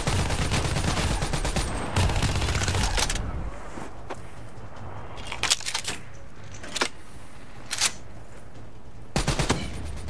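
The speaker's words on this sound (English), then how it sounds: "There is the one. I'm gonna shoot him up." Bursts of automatic gunfire from the Call of Duty Black Ops III shooter game: a dense sustained volley for the first three seconds, then a run of short, sharp shots and brief bursts spaced apart, loud and close.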